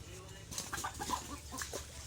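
A chicken clucks in a few short, soft bursts somewhere nearby, faint against low background noise.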